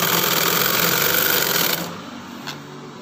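Sewing machine running a steady stitch along the side seam of a boat neck chudidar, a continuous whirring motor for nearly two seconds before it slows and stops, leaving a faint low hum.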